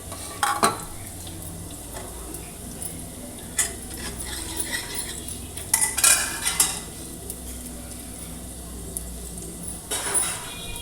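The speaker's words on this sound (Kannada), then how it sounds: "ಈರುಳ್ಳಿ ಸ್ವಲ್ಪ ಬ್ರೌನಿಶ್ ಆಗಬೇಕು, ಅಲ್ಲಿವರೆಗೂ ಫ್ರೈ ಮಾಡಬೇಕು" Onions frying in a pan for sambar tempering, with soft steady sizzle under intermittent stirring and clinks of a utensil against the pan, close and moderately loud.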